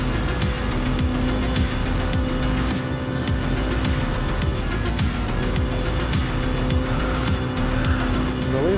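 A 1998 Honda Civic Type R (EK) lapping the Nürburgring in the racing game Gran Turismo Sport, with a loud continuous high-revving engine drone, tire squeal mixed in and no talk.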